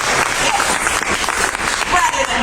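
An audience at an open mic night claps in a loud, thick burst of applause, close and continuous, with cheering voices mixed in.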